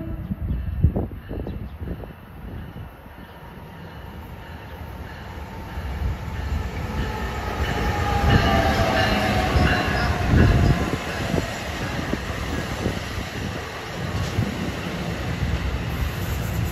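Train 4640 passes through Hamilton, New Jersey, its rumble building from a distant approach to a loud, sustained roar of wheels and rail noise, with clattering bursts near the start.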